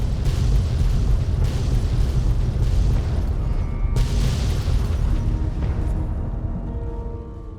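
A loud, deep explosion in the video game Fallout 3 rumbles heavily, a fresh blast bursting about halfway through before the roar slowly dies away, with no voices over it.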